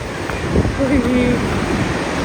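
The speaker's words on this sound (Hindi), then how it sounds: "कितना तेज चल रहा है पानी" Fast-flowing river water rushing loudly and continuously close by, a broad roaring wash with some wind buffeting, and faint voices underneath.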